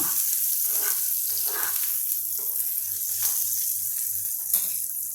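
Loud, constant sizzle and hiss of garlic frying in a hot pan for a tempering, with a low rhythmic hum underneath.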